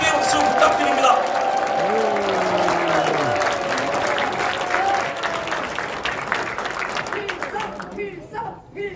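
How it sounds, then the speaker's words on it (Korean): Crowd applause at a 2021 South Korean presidential campaign launch rally for a party candidate, loud and dense, with a voice briefly heard over it, fading at the end. "김경재 대통령 후보께 다시 한 번 더 큰 격려의 박수 부탁드립니다."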